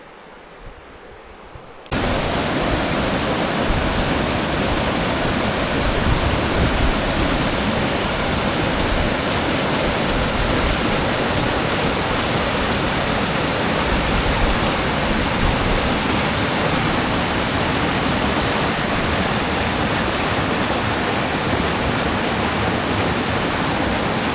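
Glady Creek flowing near its mouth by the Tygart River, a loud continuous rushing of water that kicks in abruptly after a quiet start and then holds steady and full, close by with no talking.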